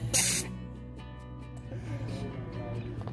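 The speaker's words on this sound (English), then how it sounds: "We're just using a compressed air nailer." A compressed air wire coil nailer, used while building raised beds from reclaimed barn wood, lets out one short, sharp hiss of air up close, followed by a low steady hum.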